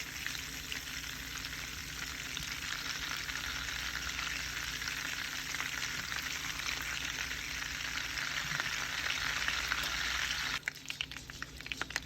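Steady, dense sizzling of butter browning in a pan, continuous and close, with a few stirring clicks near the end.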